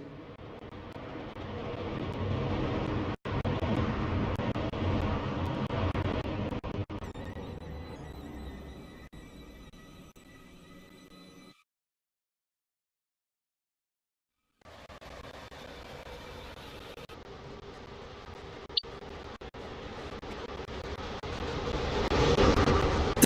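A train at a station in the Roblox Stepford railway game at Leighton City, a steady rumble and hum of rolling stock that fades, drops briefly to silence, then swells again with a few sharp clicks.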